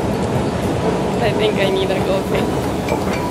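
Steady rumbling rattle of a moving London Underground train carriage, with a person talking close by over the constant noise.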